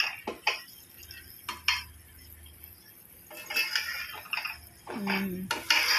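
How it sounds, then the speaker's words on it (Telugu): Chicken pickle pieces being mixed with chili powder and masala in a pot, with intermittent clinks and scraping taps of a utensil against the vessel, moderately close, and a voice briefly heard. "చూడండి అది కూడా ఆఫ్టర్ కారం వేసి మంచిగా ముక్కలకు పట్టేలా కలుపుతున్నారు."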